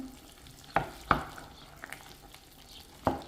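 A spoon stirs boiling potatoes in a pot, a few distinct scraping knocks spaced irregularly over a soft bubbling background.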